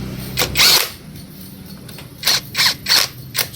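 A power tool tightens bolts on the water pump of a Yamaha Sniper 155 motorcycle during a repair, giving several short, close buzzing bursts in quick succession with brief pauses between them.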